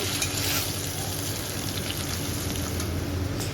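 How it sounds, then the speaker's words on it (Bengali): Paneer pieces frying in a hot pan, a dense, continuous loud sizzle with a constant crackling texture and no talking. "পনিরটা আগে ভাজি করে রেখে দিব"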